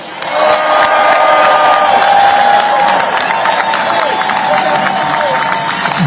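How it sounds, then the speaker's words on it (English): A large crowd at a Labor Day protest against Trump in Ohio cheers and whoops loudly and continuously, with a dense roar of voices that swells after the first half second and holds steady throughout. "Would you cheer for the people who work around you?"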